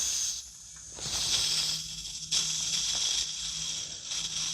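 A steady hiss of gas flowing under pressure into an airsoft magazine for a Salvo Precision MCX gas blowback rifle, pulsing slightly louder and softer, with faint clicking mechanical sounds and no talking.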